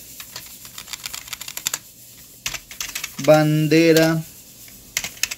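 Rapid, uneven keystrokes clatter on a computer keyboard while HTML and CSS are coded for a Japanese flag page, with bursts of clicks before and after a short spoken word in the middle.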